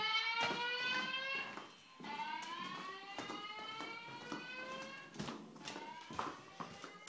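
Fire alarm speakers sound during a building test, a steady harmonic electronic tone sweeping up and down over several seconds and punctuated by sharp sliding peaks, loud and close with no talking.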